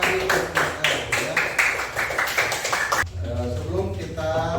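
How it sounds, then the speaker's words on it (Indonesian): Classroom applause for a student, a group of children clapping in quick, fairly even rhythmic claps close by for about three seconds, then a teacher talks. "tepuk tangan buat Radit"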